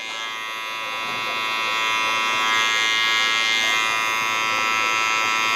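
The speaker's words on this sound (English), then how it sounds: "what we're going to set in with our clippers instead of our trimmers" Electric hair clippers buzz steadily and up close through a low taper fade on a man's head, a continuous bright hum with slight swells as the blade works along the neckline, with no talking over it.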